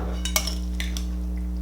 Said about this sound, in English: I'm just gonna mix that little bit of vinegar just mix it well